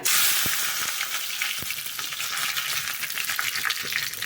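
Mustard seeds, urad dal and curry leaves sizzle in hot oil for a chutney tempering, giving a loud, dense, continuous crackling hiss with a few sharp pops, close up and without speech.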